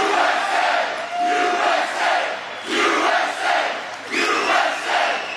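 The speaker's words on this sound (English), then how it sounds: "That's a big crowd." A large crowd at a political rally in Derry, New Hampshire cheers and shouts loudly in repeated swelling waves, with no speech over it.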